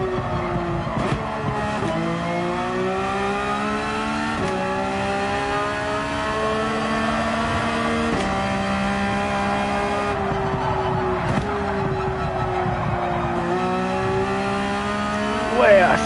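A race car at speed on a time attack lap around Yas Marina Circuit, its loud engine note climbing steadily through the gears and dropping sharply at each upshift, with brief tire squeals along the way.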